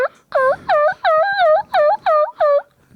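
A turkey call imitates a hen turkey in a run of about seven sharp, nasal yelps, loud and close with brief gaps between them, on a podcast set.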